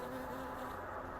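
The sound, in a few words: bee buzzing in a video game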